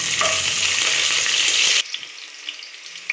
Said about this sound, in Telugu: గ్రీన్ చిల్లీ ఒక పది గ్రీన్ చిల్లీలు వేస్తున్నాను